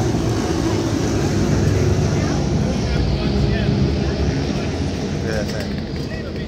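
Vintage two-stroke motorcycle engines, such as a Yamaha RD, running in the road racing pits at Barber Vintage Motorcycle Festival, a continuous loud low engine drone with crowd and people talking throughout.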